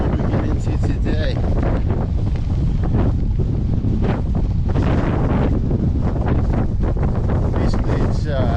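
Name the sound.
wind noise from a headwind while cycling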